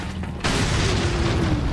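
A grenade explosion in the Resident Evil 4 video game, a sudden loud boom about half a second in that rolls on as a sustained rumbling blast to the end.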